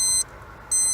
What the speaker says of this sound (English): This one beeps when it's ready.